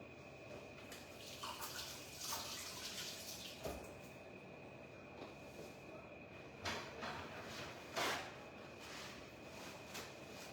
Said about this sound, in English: I might just quickly wash my hands.